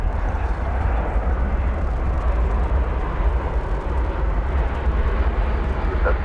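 Airbus A350-900 airliner departing DFW for Helsinki, a steady broadband jet roar that stays loud and constant throughout, with no clear rise or fade.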